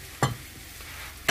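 Parsley, carrots, celery and tomato stirred in a hot pan for a shrimp soup, a low sizzle broken by two short scraping stirs near the start and end.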